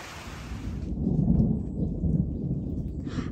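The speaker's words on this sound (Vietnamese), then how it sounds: "anh chị nghe sấm sét đánh không?" Thunder rumbling low and steady after rain has stopped over a fruit orchard garden, a broad continuous roll that swells in the middle and stays moderately loud, with no voices.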